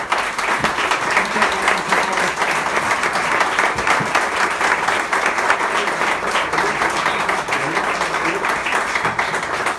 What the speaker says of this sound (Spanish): Un aplauso al maestro y muchas gracias.